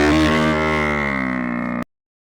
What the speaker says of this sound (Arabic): جاموس buffalo.